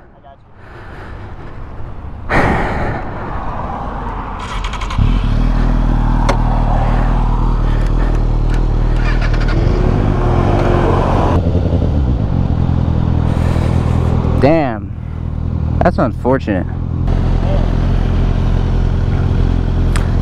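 Motorcycle with a front brake line caught in the tire, ridden slowly with a low steady engine drone and occasional revs and clatter, while a rider talks over it.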